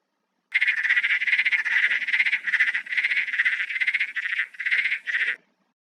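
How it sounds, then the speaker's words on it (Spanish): Spotted frog (Batrachyla leptopus) calling: a quick series of about a dozen buzzy, pulsed croaks in steady rhythm, clear and close, with no other sound around them. "veamos el sonograma de la rana moteada Batrachila leptopus"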